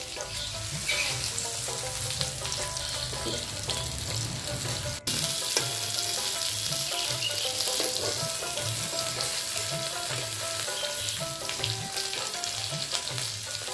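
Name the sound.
pumpkin leaf fritters with dried fish frying in oil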